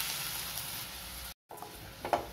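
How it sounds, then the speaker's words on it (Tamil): Coconut paste sautés in a pan with sautéed onions for a sorakkai kootu kuzhambu, giving a steady soft sizzle with a brief break and a light stirring scrape near the end. "இந்த தேங்காய் பேஸ்ட்டை வந்து 2 நிமிஷத்துக்கு நல்லா வதக்கி விட்டுடலாம்."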